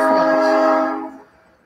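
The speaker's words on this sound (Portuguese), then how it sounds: "Eu dou aula com o trem passando pela minha sala" A train on a railway line just outside a home sounds a sustained, harmonic horn blast that rings loud and near before fading away over about a second.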